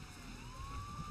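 A police siren in the True Crime: New York City video game wails in a single rising sweep, moderately loud and heard alone over a low rumbling background.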